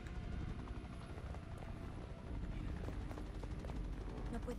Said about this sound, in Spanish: No puedes verme, helicóptero.